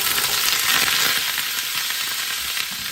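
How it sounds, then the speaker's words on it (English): Gizzard roasts in a hot pan for a Nigerian peppered gizzard snack, giving a dense, loud, unbroken sizzle throughout with faint pan noise underneath and no talking. "going to add the gizzard. Just going to let it roast"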